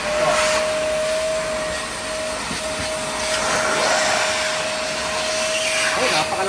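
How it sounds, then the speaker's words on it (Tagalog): A 2-in-1 vacuum machine with a built-in blower runs loudly and steadily, a broad whooshing roar with a constant whine, close by and without talk. "Tapos yung vacuum, try nga natin yung vacuum."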